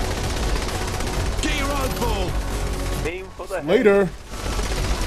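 Bursts of gunfire in the Saints Row: The Third video game, sounding under excited talk, with a louder flurry of shots near the end as voices call out.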